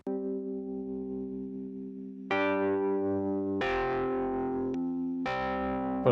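An instrument track playing sustained notes through a heavy distortion effect during mixing, gritty and buzzing, with a few note changes and no voices.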